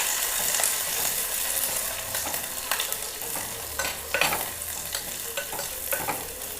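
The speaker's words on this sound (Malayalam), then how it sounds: "ഇനി ഒന്ന് വഴറ്റി കൊടുക്കാം." Four slit green chillies sauté with curry leaves in a pan, giving a bright, continuous sizzle close by with repeated scraping strokes of a stirring spoon and no voice present.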